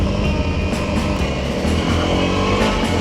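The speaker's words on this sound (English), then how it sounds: "We jumped back on the bikes and headed towards another one." Dirt motorbikes ride across the desert at Spangler Hills toward an old mine, their engines droning loud and steady with continuous wind and road noise and no voices.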